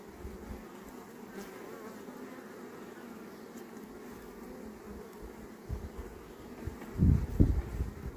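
Honeybees hum in a steady low drone around a hive of frames, with a few louder buzzes and bumps passing close near the end.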